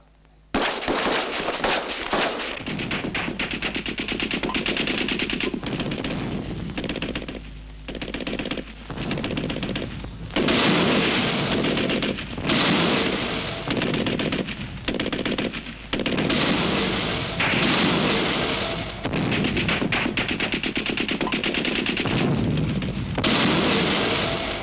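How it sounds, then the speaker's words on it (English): Rapid rifle gunfire from naval recruits in basic training firing deliberate rounds from the prone position at a range, loud and near, with dense overlapping shots in bursts and short pauses, no talking. "Second detail, prone position, lie down. 10 rounds deliberate at your own targets"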